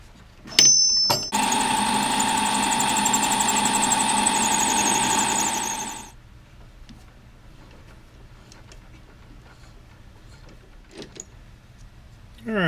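Metal lathe running steadily with a tonal machine hum for several seconds after parting off a brass finial, then switching off, leaving a quiet room with faint clicks.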